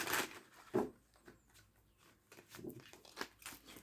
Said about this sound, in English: One more shuffle, Spirit.